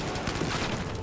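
Burst-fire weapon shooting in Battlefield 4, a dense rattle of gunfire filling the short moment at steady loudness with no talk.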